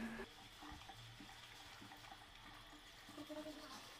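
Water falling into a Hindware wall-mounted concealed flush tank after the supply is opened during installation, a faint, steady trickle and splash with some clinking handling noise partway through.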